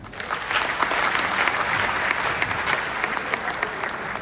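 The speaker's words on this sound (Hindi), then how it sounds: "मैं चाहूंगा आप जोरदार ताली बजाएं" Loud, sustained applause from an audience at a Hindi-language public address by an MLA, dense clapping filling the whole stretch without a break.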